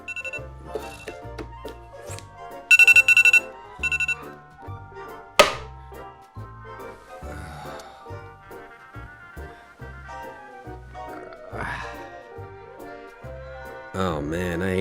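An alarm clock rings in short bursts of bright beeping partway through, set against a busy rhythmic music bed with thumps and other effects.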